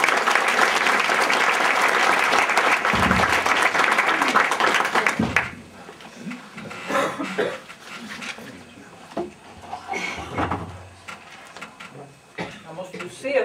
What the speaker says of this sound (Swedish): En varm applåd för våra gäster.